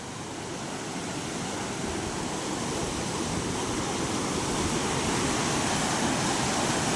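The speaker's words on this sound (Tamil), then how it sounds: "ஃப்ரெண்ட்ஸ் பாருங்கள் ஃப்ரெண்ட்ஸ் தண்ணி போயிட்டுருக்கு" Flood water rushing in a river, a dense continuous roar of flowing water, steady and close, slowly growing a little louder, with no voices.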